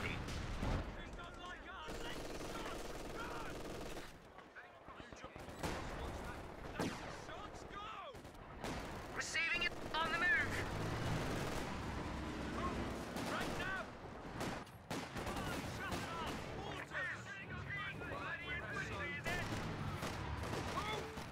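Battlefield gunfire in the Company of Heroes 2 strategy game, with rifle and machine-gun bursts and heavier artillery booms scattered over a long stretch, near and distant, while unit voices call out between the shots.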